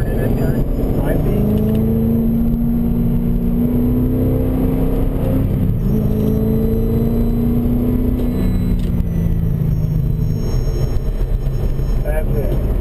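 Race car engine holding a steady, loud drone through a track turn, its pitch rising and dipping slightly as it brakes and powers on, with an in-car voice coaching over the continuous engine noise.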